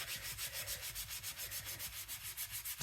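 Oil pastels rubbed on paper to blend colors make a rhythmic, close scrubbing sound, about five strokes per second in even back-and-forth passes with no talk.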